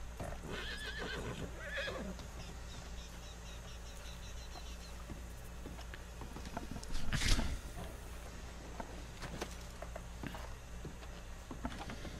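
A horse whinnies once, fairly faint, amid a low steady background, with soft scattered hoof clops and light patter throughout, in the video game Red Dead Redemption 2.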